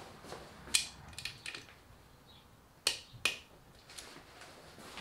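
A hand tool clicks in short, sharp bursts while bolts are tightened on the alternator of a BMW 1150GS motorcycle, close-up and fairly quiet, with pauses between each stroke.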